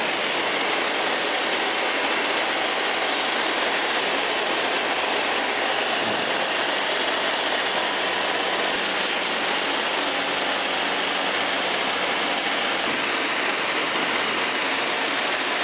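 Zenith light aircraft engine in flight along the Pacific coast, a loud continuous broadband drone heard from inside the cabin, steady throughout with no clear speech.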